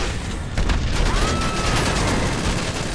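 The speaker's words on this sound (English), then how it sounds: "Everybody shooting at me now?" Dense gunfire in GTA 5, a chaotic fusillade of overlapping shots and booms that stays loud and continuous throughout, like several weapons firing at once.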